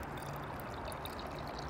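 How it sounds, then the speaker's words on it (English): Water poured into a hollow cavity in a forest tree, giving a steady trickling, gurgling stream that runs close and unbroken throughout. "We're pouring some water in there."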